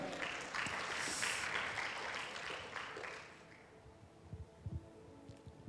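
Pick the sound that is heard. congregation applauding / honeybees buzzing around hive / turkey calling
congregation applauding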